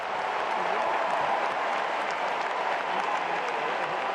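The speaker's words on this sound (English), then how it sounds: "you can hear it in this crowd, how appreciative they are of Tiafoe's level of play right now" Sustained applause from a tennis crowd at the US Open semifinal between Taylor Fritz and Frances Tiafoe, a steady wash of clapping with low crowd murmur, heard slightly distant with a commentator talking over it.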